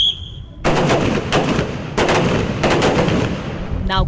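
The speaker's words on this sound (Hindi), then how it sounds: "That is what they will be firing now." Rifle fire at a shooting practice range, heard as several loud sharp reports in a rapid cluster followed by two more close bursts of shots, each ringing out with broad echoing noise.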